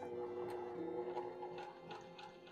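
A sewing machine stitching a quilt block runs at a steady mechanical hum with faint repetitive ticks, close and fairly quiet, with no talking.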